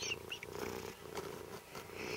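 A cat purrs softly up close, a low rhythmic rumble with faint breathy pulses, quiet and alone.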